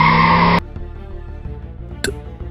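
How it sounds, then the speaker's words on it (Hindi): A motorbike brakes hard in a loud, sustained screech that lasts about half a second and then cuts off abruptly, leaving a low rumble with a brief sharp burst near the end. "उसने जोर से अपनी बाइक के ब्रेक लगाए"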